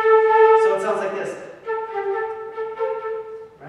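A flute plays a short vamp scale pattern, a sustained bright note followed by a series of shorter stepped tones, clear and close in a room.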